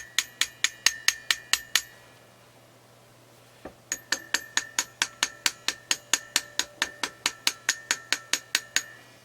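A small hammer strikes gold on a miniature anvil, rounding off the head of an Anglo-Saxon raven replica: sharp ringing metallic taps in a steady run, a brief pause, then a longer, quicker series of close clinks.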